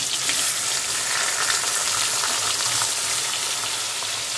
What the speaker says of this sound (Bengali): মাছগুলো আমার বসিয়ে বসিয়ে দিচ্ছে।